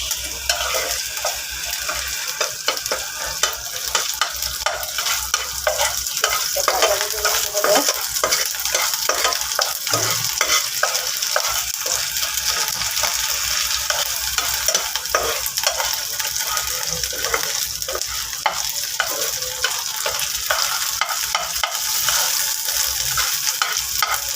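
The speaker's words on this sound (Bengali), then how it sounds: "শুক্তিটা ভেজে দিচ্ছে" Dried fish (shutki) fries in a pan for a bhorta, giving a steady, close sizzle with repeated stirring and scraping that runs unbroken for the whole stretch, with no voices.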